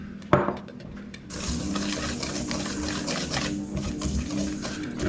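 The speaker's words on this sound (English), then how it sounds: "so I'm going to mix last week's dry rub in here" BBQ dry rub for pork gets mixed in a bowl, with a sharp knock at the start followed by continuous close scraping and gritty rattling as the spice mix is stirred.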